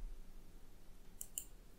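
A computer mouse gives two quick, sharp, faint clicks close together, set against a quiet room hum with no talking, while typing in Kabyle on a Windows keyboard.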